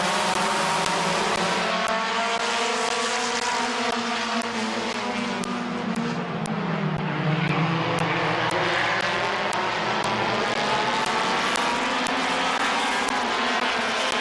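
Race cars roar continuously at Midvale Speedway, a loud, sustained engine drone with pitch rising and falling as cars pass through the turns on a late lap.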